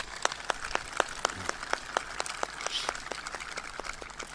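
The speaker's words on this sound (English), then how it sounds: "Let's give John and Buffy one more round of applause, please." Scattered applause from a small group at a U.S. Army V Corps ceremony, individual claps standing out in a loose, uneven rhythm, fairly faint and distant.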